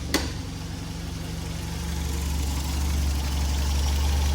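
A Ford Fiesta Mk3 engine idles with a steady, low, close rumble that continues throughout. A brief click comes at the start, and the idle grows slightly louder toward the end.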